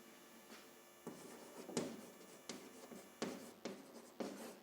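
A pen writes numbers on paper in a string of short, faint scratching strokes, each separated by brief pauses, heard alone in a quiet room.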